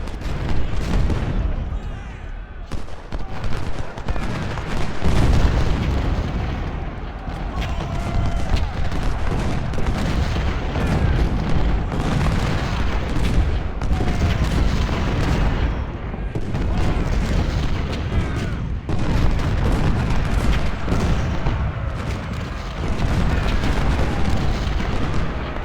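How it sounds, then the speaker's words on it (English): Artillery fire in the Civil War strategy game Ultimate General Civil War at Chancellorsville 1863: dense, continuous rumbling booms and crackling volleys of battle, loud and sustained with no clear gaps. "Just got routed by the artillery."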